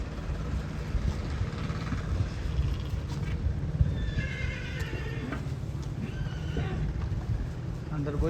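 A horse whinnies over a steady hum of outdoor background noise, with a few hoof clops and people talking nearby.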